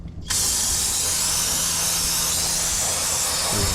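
A loud, steady aerosol spray of brake cleaner hisses continuously for several seconds after a brief quiet start, close up.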